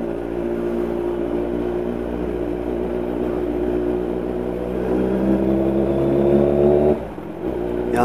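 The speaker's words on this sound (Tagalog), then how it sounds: "Kasi maingay yung tambutso." Loud, steady exhaust drone of a Kawasaki Z1000 R motorcycle cruising slowly, a continuous low rumble that swells slightly before dropping off sharply near the end, with no talking.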